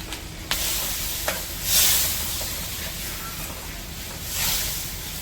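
Fish frying in mustard oil in a village kitchen, a steady broad hiss of sizzling oil with a couple of sharp pops and two louder surges of spattering, heard close with no talking.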